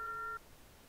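A single short, clean electronic confirmation beep from a video game chat spy command, lasting about a third of a second before quiet room tone.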